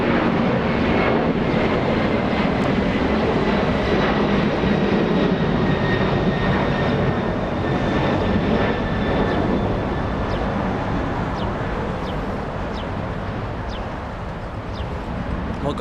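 A Boeing 767 airliner takes off at Los Angeles International Airport with a steady broad jet roar and a thin high whine, moderately distant and continuous, with faint voices underneath.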